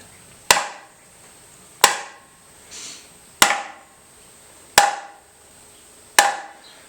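Five sharp, evenly spaced whacks as the spine of a Cold Steel Luzon folding knife is struck down hard, each a loud crack with a short ringing decay, close and alone.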